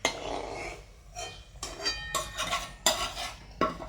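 Fried khaja pastry pieces set down one at a time onto a dish, giving a few separate clinks and soft clatters spaced across a few seconds, close and fairly quiet with no talking.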